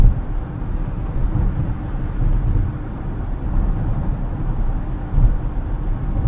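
A Tesla speeds up on a freeway, heard as a steady, loud rush of road and wind noise with a low rumble that rises and falls slightly, with no talking.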